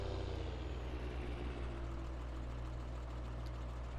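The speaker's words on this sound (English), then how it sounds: "Love the sound of this tractor." A modded medium tractor engine in Farming Simulator 19 runs steadily with a deep, low rumble and a constant, even drone throughout, with no other sounds over it.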